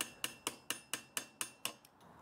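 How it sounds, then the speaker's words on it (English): A hammer driving a screwdriver taps a bicycle headset washer around the steerer tube: eight sharp metallic knocks in an even rhythm about a quarter-second apart, close and clear, followed by a fainter tap and quiet. "I'll need to use the screwdriver and hammer to tap this washer around a little bit before I can remove it."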